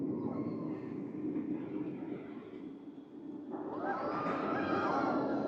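The Full Throttle roller coaster at Six Flags Magic Mountain thunders past as a broad, continuous roar that grows louder and rises in pitch toward the end, with a screeching rail whine layered on top.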